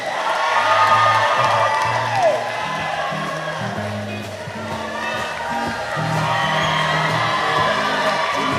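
A crowd at the Miss Samoa 2017 pageant claps and cheers for a contestant with whoops above sustained applause, while music and a voice carry through underneath.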